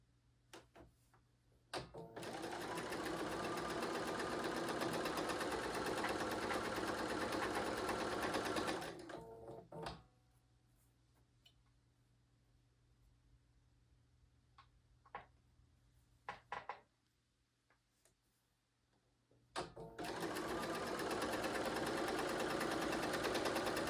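A home sewing machine stitches quilt pieces for a tea party quilt in two long, steady loud runs. Quiet handling noises and faint clicks fill the pause between them.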